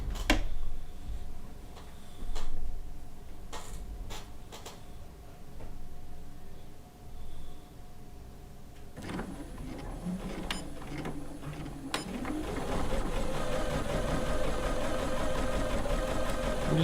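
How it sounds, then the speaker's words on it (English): A sewing machine stitching close to the edge of ribbon on a quilt top, heard as a steady mechanical ticking hum that grows busier and louder in the later part, with no talking. "I'm just stitching it fairly close to the edge of the ribbon, all the way around."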